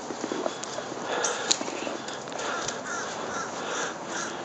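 Crows caw outdoors on a winter morning, several harsh calls scattered over a dense, hissy background of wind and ambient noise, fairly distant.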